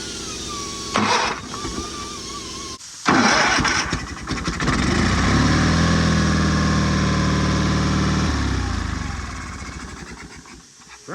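A John Deere 316 lawn tractor engine cranks briefly with a whirring starter, then catches and settles into a loud, steady idle before easing down near the end; a voice speaks faintly at the start.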